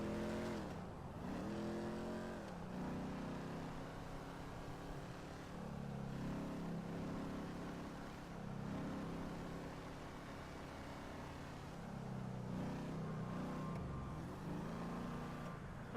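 Car driving in Grand Theft Auto, a steady engine drone with rising and falling revs and gear shifts throughout, loud and continuous with no talk over it.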